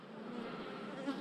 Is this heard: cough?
no